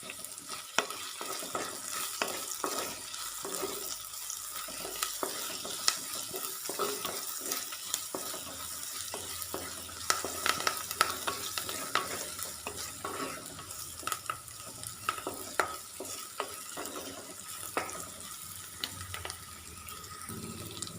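Dried red chillies and curry leaves fry with onions in a pan for a thoran of young jackfruit, a steady close sizzle broken by frequent scraping stirs, no voices.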